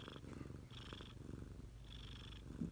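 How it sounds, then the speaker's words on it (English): A cat purrs softly and steadily up close, its rhythmic rumbling cycling with each breath, quiet and alone with no talking. "Good purring ASMR."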